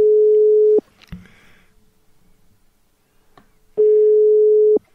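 Two long steady tones of a telephone busy signal after a call is placed, clear and loud in a handset, separated by a few seconds of quiet with faint background noise and small clicks.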